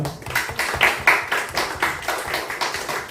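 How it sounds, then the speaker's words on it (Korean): A church congregation claps together in steady, rhythmic unison, the sharp hand strikes landing in an even beat for about three seconds with no talking. "힘내라고 큰 박수 한번 부탁드립니다."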